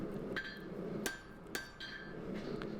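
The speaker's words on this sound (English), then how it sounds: "I'm using my regular rounding hammer, trying to get everything uniform and straight" A regular rounding hammer strikes hot steel, forging the bevel of a large San Mai Damascus Bowie knife made from saw blade and 80CrV steel. Several sharp, ringing metallic blows land at an uneven pace, close and clear.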